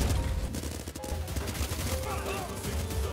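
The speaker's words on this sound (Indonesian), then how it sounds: "Semua pasukan Rao ditembak." Rapid gunfire rattles through a dramatic film scene as soldiers are shot, dense bursts of shots layered over a loud, busy battle soundtrack throughout.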